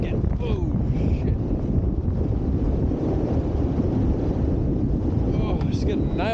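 Strong wind buffets the microphone in a constant roaring rush, with faint squeaks and creaks poking through near the end.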